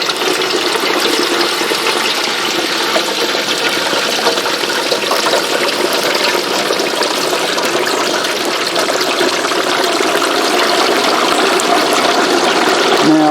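A whole turkey is eased slowly into hot frying oil outdoors, giving a steady, loud broadband sizzle and bubbling roar that holds unbroken throughout.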